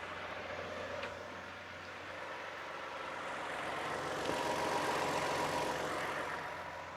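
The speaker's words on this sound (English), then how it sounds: "We are going to run the vehicle maybe for half a minute or so, and then we are going to shut it off." A 2015 Toyota Sienna AWD with the 3.5 V6 runs at a steady idle, a low, even hum with faint mechanical ticks, quiet and continuous throughout.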